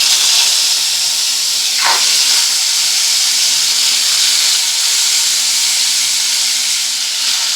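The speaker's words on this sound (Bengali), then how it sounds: "এবার এই তেলের মধ্যে আমি মাছগুলোকে ভেজে নেব।" Rupchanda fish fry in hot oil, giving a steady, loud sizzle and hiss that runs unbroken from start to finish, close by and with no voices.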